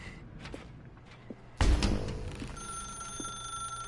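A telephone rings in The Stanley Parable video game, a loud burst followed by a sustained electronic ringing tone, heard alone with faint footstep-like clicks before it.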